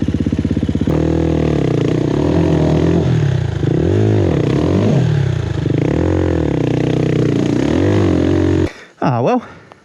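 An enduro motorcycle on a bush trail revs hard in repeated rising and falling surges while riding out, loud and close, before cutting off near the end.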